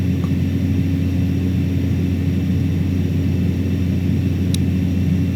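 Steady droning turboprop engine of a Cessna Caravan in Microsoft Flight Simulator, flying with flaps lowered, a constant loud hum with a strong low rumble that stays level throughout with no voices.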